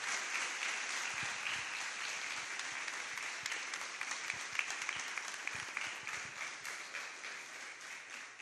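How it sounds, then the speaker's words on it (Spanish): Sustained audience applause after a doctor's lecture in a church, a steady dense wash of many hands clapping throughout, moderately distant and fairly even in loudness. "Muy bien, otro fuerte aplauso al doctor."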